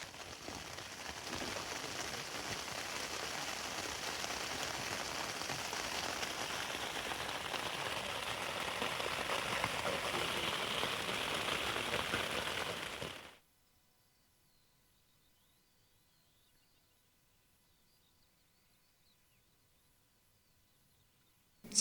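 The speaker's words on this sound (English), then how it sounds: "As it starts to rain again and get more rain starts to pour through the seams" Steady rain patters on a Sierra Designs Solo Assault tent during an overnight downpour, a dense continuous wash for about thirteen seconds before cutting to near silence.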